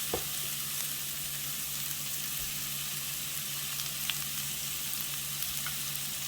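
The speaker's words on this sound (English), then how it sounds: "You're gonna cook these onions until they are translucent" Onions with a pinch of salt frying in a pan, giving a continuous, even sizzle with faint crackles and a low steady hum beneath, close by and moderate in level, with no voices.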